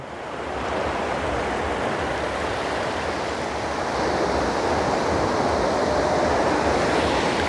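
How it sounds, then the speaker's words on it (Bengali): Continuous roar of surf, sea waves breaking and washing in steadily on the beach at Bakkhali, with some wind noise over the microphone. "এবার আমাদের বিচে যাই দেখি এখানে ঢেউ কেমন চলো"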